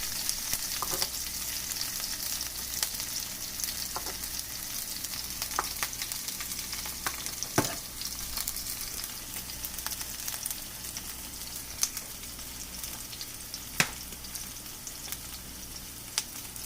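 Shrimp with seeded chilies stir-fry in a hot pan, a steady loud sizzling hiss running throughout, broken by occasional sharp clacks and scrapes of a utensil stirring, with no talking.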